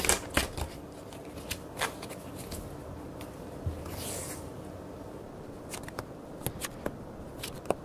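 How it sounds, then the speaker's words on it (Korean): Tarot cards are shuffled and drawn at close range, giving soft papery riffles and scattered crisp snaps and flicks at irregular intervals over a quiet background, with no talking. "2번 분과 상대방 분은 어떤 관계인지 카드를 뽑아봤는데요"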